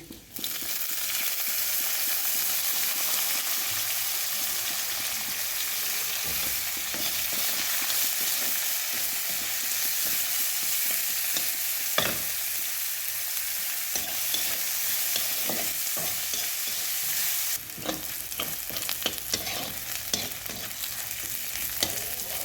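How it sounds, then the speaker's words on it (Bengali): Onion fries in oil with cumin and dried red chilli, sizzling steadily in a pan while a spoon scrapes and stirs it in repeated strokes, close and continuous with no talking. "পেঁয়াজটাও ভাজা হয়ে গেছে"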